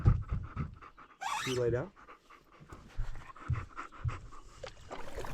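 A dog pants rapidly and audibly at a backcountry canoe campsite, with quick breathy gasps interleaved with a man's nearby speech and a brief rustle.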